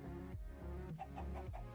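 Chickens clucking in the Minecraft video game, several short repeated clucks close by in a steady, uneven rhythm.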